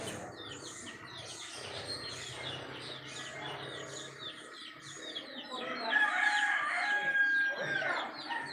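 A rooster crows among other birds, its harmonic call rising clearly near the end over a background of chirping and light fowl clucking, moderately close.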